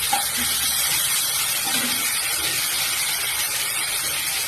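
Spices fry in a pan for a vegetarian aloo dum, giving a steady, loud sizzling hiss of hot oil with faint crackles, close by and with no talking.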